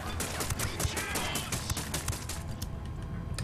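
Rapid, dense gunfire crackles from several weapons at once in the video game Ghost Recon Wildlands, loud and close, with overlapping bursts that thin out toward the end.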